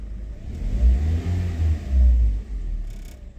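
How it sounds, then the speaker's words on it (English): A Toyota Corolla engine with worn motor mounts idles unevenly close by, surging and dipping in low rumbling pulses as if running rough, with a sharp vibration from a front engine bracket. "That sharp vibration from the front of the engine was this bracket here"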